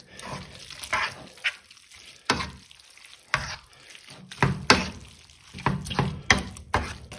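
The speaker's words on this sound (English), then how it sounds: "now I stir rather quickly, almost furiously" Spaghetti with cheese and a creamy sauce stirred hard in a pan, giving repeated loud scraping and sloshing bursts in an uneven, vigorous rhythm with a light sizzle between strokes.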